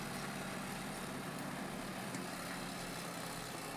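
A Caterpillar excavator engine runs at a quarry working weekend, a steady low idling rumble heard at a moderate distance under broad background noise.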